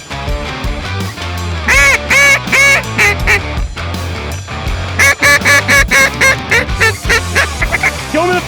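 A flock of ducks calls loudly during a duck hunt in a Colorado field on opening weekend, with dense overlapping quacks and honks that rise in repeated bursts, close and continuous.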